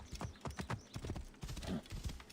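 Horse hooves clip-clop in Assassin's Creed Origins, a steady run of close, crisp hoofbeats at a trot, with a faint whinny-like sound mixed in and no talking.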